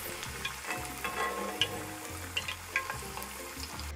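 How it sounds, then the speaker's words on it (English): Garlic slices and a piece of hot pepper fry in oil over medium-high heat with a soft, continuous sizzle and scattered small pops and crackles. Nobody speaks. "add some slices of garlic and a piece of hot pepper just to flavor the oil a little bit"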